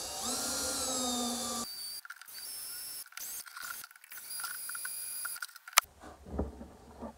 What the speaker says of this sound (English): When you're drilling with metal, or steel in this case, typically your drill has two settings.